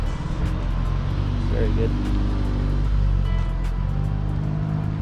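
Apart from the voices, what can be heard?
Audi S3 car arriving at a car meet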